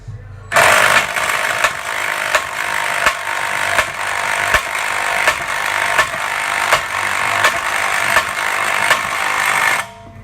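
Repeated hammer blows strike a socket on a ball joint of a 1996 Ford Econoline van, sharp regular impacts ringing over a loud, continuous mechanical din.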